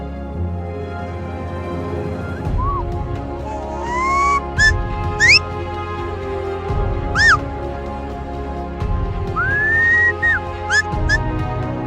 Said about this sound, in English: Whistles and shouts guide the Zabus across the savannah.